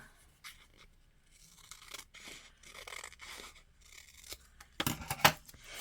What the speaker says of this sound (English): And I'm going to cut it as well.